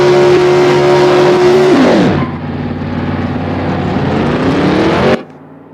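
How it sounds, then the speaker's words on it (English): A 1967 Chevelle SS engine roars loudly at a steady high rev, then drops in pitch as it sweeps past up close, holding a strong throaty drone for a few seconds before cutting off abruptly. "And I can hear my car."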